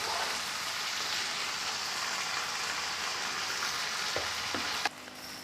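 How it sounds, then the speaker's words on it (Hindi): Mustard greens saag frying in a pan, a steady dense sizzle like rain on a surface lasting throughout, with a couple of faint utensil knocks near the end as the greens are mixed, and no talking. "अब हम इसे अच्छी तरह से मिक्स करेंगे।"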